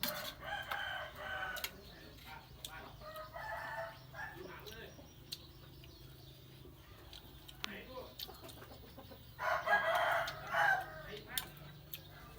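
Backyard chickens and a rooster at a rural home, with faint intermittent crowing and clucking heard at a distance over quiet background noise, and a few brief bursts between them.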